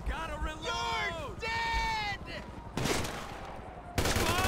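Assault rifle fire in GTA 5, two loud, close broadband bursts of shots following a stretch of tonal, wavering sound, with someone speaking.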